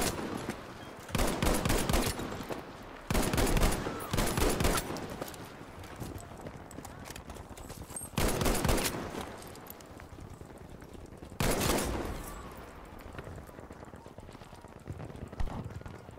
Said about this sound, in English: I'm hip firing and scoping in to see if I can get the lucky shots